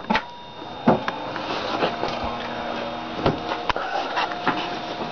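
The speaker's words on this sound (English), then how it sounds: "Very loud fans." A Pentium 4 desktop computer powers up and its CPU and graphics card fans whir into a steady, loud broadband hum, with a few clicks and knocks from the machine over the drone.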